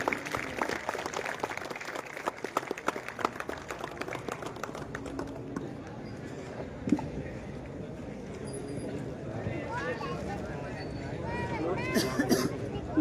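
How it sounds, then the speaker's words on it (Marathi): An audience claps at the inauguration of a state-level volleyball tournament, a dense patter of applause that fades and gives way to crowd babble and a speaker on a public address system. "सर्वांनी टाळ्या वाजवून प्रतिसाद द्यायचा."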